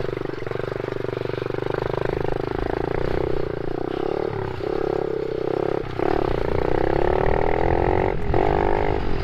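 A mini motorcycle being ridden close by, its small engine buzzing loudly and steadily, the pitch rising and falling as the rider throttles, with brief clattering and a short dip in the middle.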